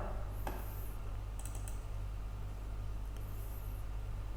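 Numbers are typed on a computer keyboard into an Excel table, with a few soft, sparse keystrokes and one brief cluster, faint against steady low hum and room noise.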